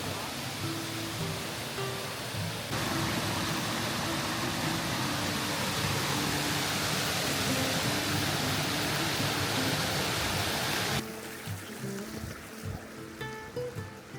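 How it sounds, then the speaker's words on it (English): Waterfalls and a river roar steadily as a loud, unbroken rush of flowing water, with no talking. "Look at all the waterfalls up there."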